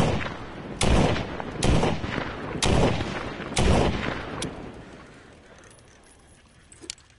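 Gunshots in a PS4 VR zombie shooting game: four loud, evenly spaced blasts, each with a short ringing tail, followed by quieter handling clicks as the gun is worked.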